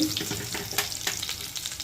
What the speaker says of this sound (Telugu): మినపప్పు కరివేపాకు నాలుగు ఎల్లుల్లిపాయలు ఎన్ని తాలింపు పెట్టేసి